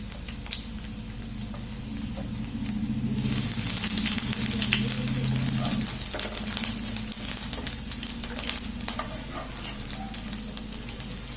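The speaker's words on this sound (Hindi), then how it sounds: "एबे आम कटा रसुण पकेबा" Long-cut garlic cloves frying in hot oil in a pan for Odia kalama saga, a steady loud sizzle that swells as the garlic goes in, with light stirring scrapes and no talking.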